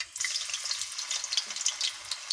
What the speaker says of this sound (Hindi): ऑयल गर्म हो चुका है, और अब मैं इसके अंदर ऐड कर रही हूँ 1 खाने का चम्मच लहसुन पेस्ट और 1 खाने का चम्मच अदरक पेस्ट